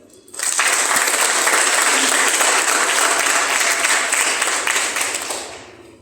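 Hindi-speaking audience gives a warm welcome with loud, sustained applause, starting abruptly after a brief quiet moment and holding steady for several seconds before easing off.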